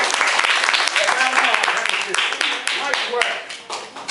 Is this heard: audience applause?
yes